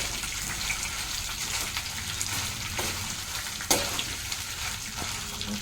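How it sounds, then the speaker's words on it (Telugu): Dried red chilies, chana dal and urad dal frying in oil in a pan, a steady dense sizzle running throughout with a few brief stirring clinks and scrapes. "ఎండుమిర్చి వేగిపోయాయి, ఇవి శనగపప్పు వేగాయి, మినపప్పు వేగాయి"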